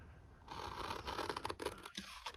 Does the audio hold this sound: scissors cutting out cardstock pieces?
yes